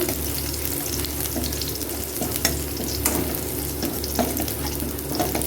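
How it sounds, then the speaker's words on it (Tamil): Garlic fries in hot oil in a pan while being stirred, giving a close, busy sizzle with scraping and crackling bursts over a steady frying hiss, no voices. "பூண்டு போட்டுக்கலாம் பூண்டு நல்லா வணங்கட்டும்"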